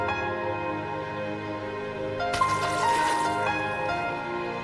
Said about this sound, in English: Ospreys close their nostrils as they enter the water, diving a metre below the surface